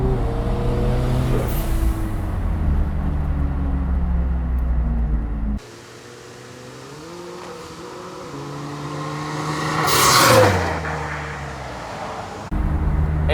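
A turbocharged Toyota GT86 Rocket Bunny race car driving at night, its engine droning loudly from inside as it revs up and shifts gears, with a surge of acceleration and turbo rush near the end.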